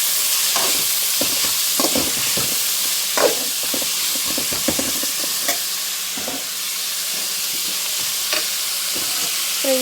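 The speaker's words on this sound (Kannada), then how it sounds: "ಫ್ರೈ ಆಗ್ತಾ ಇದೆ ಇವಾಗ" Carrot, potato and beans fry in a hot pan with a steady, close sizzle, broken by repeated scraping and stirring knocks from a utensil.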